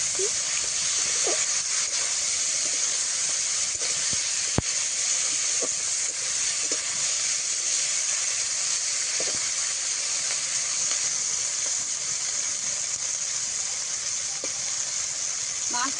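Fish fries in a little oil in a pan, giving a steady, even sizzle and hiss that runs throughout, with a few faint clicks and light stirring sounds.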